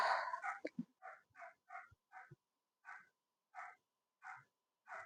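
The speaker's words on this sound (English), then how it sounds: "There's a dog barking and it's annoying the shit out of me." A dog barks repeatedly indoors, opening with a burst of yips and whimpers before settling into evenly spaced single barks, clear and alone with no talk over them.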